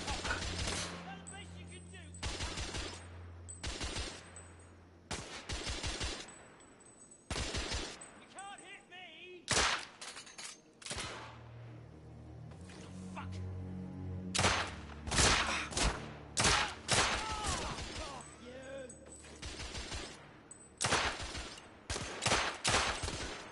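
Gunfight in the video game The Order: 1886, with dense bursts of loud rapid-fire gunshots and single cracks spread across the scene, broken by short lulls, with voices calling out between volleys.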